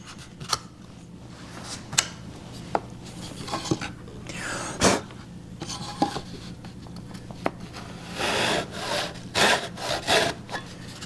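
A hand saw cuts wood for a tenon on a table apron, light scratchy strokes and taps at first, then a run of faster rasping strokes near the end, close and fairly quiet.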